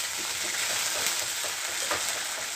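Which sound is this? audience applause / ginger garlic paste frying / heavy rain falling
ginger garlic paste frying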